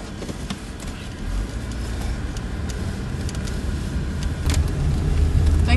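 A car pulls away and drives off on a highway, its engine and road rumble rising steadily in loudness over several seconds, mostly alone with no talk.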